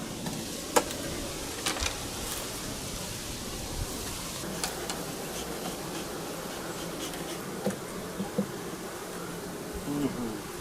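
Honey bees at an opened wooden beehive hum in a faint, continuous drone, broken by occasional soft clicks and knocks as the frames are handled.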